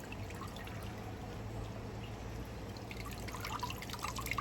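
Packed moss dipped into water for predatory plants: a soft, continuous trickle and gentle drips, close but quiet over a low hum, growing a little busier toward the end, with no talk.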